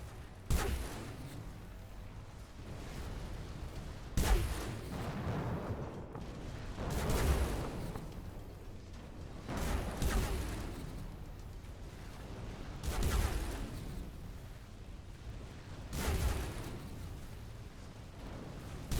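Cannons firing at a spaceship in the video game Between the Stars, a series of heavy booming blasts repeating every few seconds over a constant rumbling background, loud and close.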